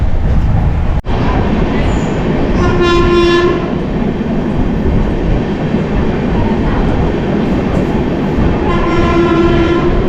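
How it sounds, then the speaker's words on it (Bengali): The Sealdah–Varanasi Amrit Bharat Express rumbles past Barddhaman steadily without stopping, with wheel clatter, and a loud horn sounds twice, a long blast near the start and another toward the end. "ট্রেন এই মুহূর্তে ক্রস করছে বর্ধমান"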